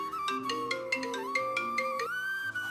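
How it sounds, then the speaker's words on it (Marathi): A mobile phone plays a melodic ringtone, its bright repeating tones ringing continuously and fairly loud indoors with no talking over it. "हे काय तुमचा फोन वाजतोय?"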